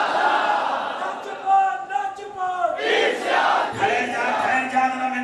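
A large crowd at a Mehfil-e-Milad religious gathering in Ilyas Colony, Gujran, roars slogans in loud unison, voices swelling and overlapping in sustained chanting waves.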